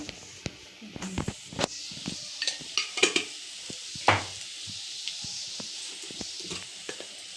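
Potato curry fries in a pan with a steady soft sizzle, while a spoon stirs, scrapes and clinks against the pan at irregular intervals.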